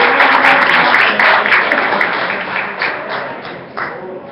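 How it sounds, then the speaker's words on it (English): A crowd at an evening talk claps steadily for a speaker's introduction, a loud dense wash of applause that slowly thins out over about four seconds. "round of applause for Robert Bunny Mitchell"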